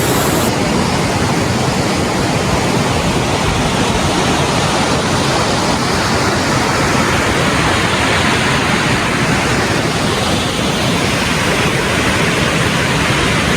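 Pallewela waterfall near Ella pours in a dense, loud, unbroken roar of falling water, heard close and alone with no voices.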